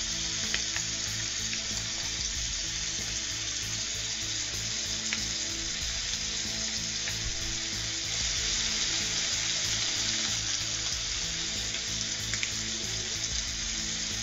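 Chile lime scallops sear in a hot pan with a loud, continuous sizzle and crackle, close and steady throughout with no talking.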